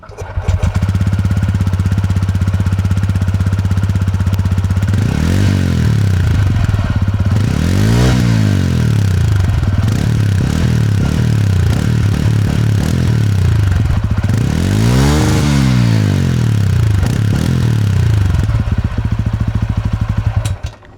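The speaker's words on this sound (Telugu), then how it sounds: "ఈ బైక్లో ఎగ్జాస్ట్ నోట్ ఎలా ఉంటుంది అనేది కూడా ఒకసారి చూద్దాం మనం" A 2026 TVS Ronin Agonda Edition motorcycle idles with a steady, close exhaust thrum, rising in several sharp throttle blips around the middle and again near the end before settling back to idle.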